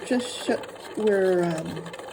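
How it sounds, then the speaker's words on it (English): A sewing machine bastes a scant eighth-inch seam to hold the pleats of a two-color fabric mask, giving a couple of short clicks and then a steady whirring run of stitching close by, with a voice briefly audible. "stitching this really scant eighth of an inch, and this is just basting really to hold those pleats in place"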